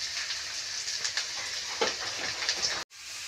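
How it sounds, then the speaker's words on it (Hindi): Garlic frying in hot oil for a mustard, fenugreek and spinach saag gives a steady close sizzle with small crackling bursts, ending in a sudden brief cutoff near the finish. "तेल हमारा गरम हो गया, मैं लहसुन डाल देती हूँ इसमें"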